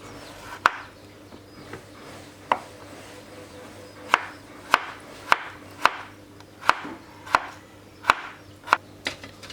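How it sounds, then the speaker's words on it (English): A knife slicing cucumber on a cutting board for homemade sardine banh mi, a series of sharp close chops, sparse at first and then quickening into a steady rhythm, with no talk. "The cucumber, we slice."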